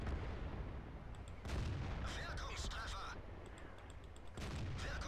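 Tank cannon shots crack out in World of Tanks, two sharp reports a few seconds apart against a steady rumble of engine and battle noise, with some game sound layered on top.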